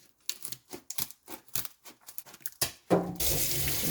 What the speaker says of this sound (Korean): 항테는 흐르는 물에 살살 헹궈 주세요.